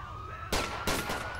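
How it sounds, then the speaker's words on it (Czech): Two sharp gunshots crack in quick succession in the video game GTA IV, close and loud over a low background hum, with no talking. "A slyšíte výstřely nové?"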